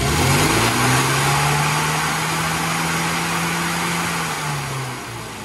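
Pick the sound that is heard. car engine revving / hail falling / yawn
car engine revving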